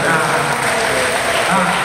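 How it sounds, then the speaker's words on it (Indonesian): A gathering at a health and religious lecture claps together in thick, continuous applause, fairly close and even in loudness from start to finish. "Tepuk tangan untuk kita semua."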